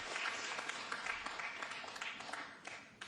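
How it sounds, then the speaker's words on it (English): Light scattered applause at a pool match with Efren Reyes rises from a sparse crowd, a faint, fairly distant patter of clapping that tapers off after about three seconds. "That brings a smattering of applause."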